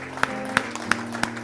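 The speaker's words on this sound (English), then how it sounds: "Let's give God a hand clap this morning" Church congregation clapping hands in unison during worship, four evenly spaced sharp claps over a sustained musical background.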